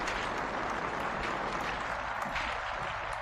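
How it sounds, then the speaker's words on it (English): Audience applause at a paranormal and supernatural open-line event, a steady dense wash of clapping filling the whole stretch at moderate, even loudness. "And give her a big round of applause."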